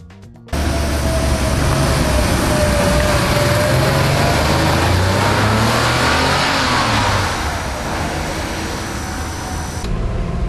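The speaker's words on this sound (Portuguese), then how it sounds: "esse é um motor de 3 litros" Air-cooled 3-litre six-cylinder engine of a Porsche 911 SC Targa starts abruptly and runs loud and close, its pitch rising and falling as it revs before settling slightly at the end.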